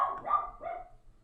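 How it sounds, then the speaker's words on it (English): A dog barks twice in quick succession, close and fairly clear, with no talking over it. "That's my dog."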